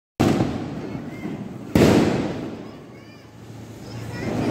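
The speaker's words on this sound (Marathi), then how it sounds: "ऑलरेडी ते जमा झालेत बाकीचे फटाके फोडायला." Firecrackers burst during a Diwali celebration: one sharp blast opens the sequence and a second louder one follows, each trailing into a long crackling, hissing wash that fades, then swells again.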